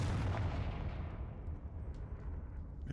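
A Confringo fire spell blast in Hogwarts Legacy: one heavy, rumbling boom that hits loud at the start and then fades slowly into a long, roaring tail with no voices over it.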